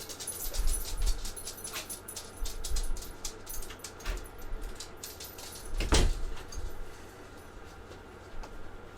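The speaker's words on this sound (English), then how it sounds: "I'm gonna let my dog out before he starts barking at me." Indoors, a dog whimpers and pants close by while keys jangle, a door clicks and bumps, and footsteps shuffle as the dog is let out, in a mix of uneven, moderately loud knocks and rustles.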